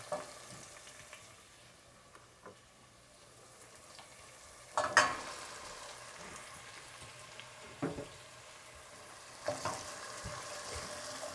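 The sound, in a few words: red onions frying in a pan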